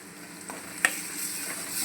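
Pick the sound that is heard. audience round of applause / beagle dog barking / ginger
ginger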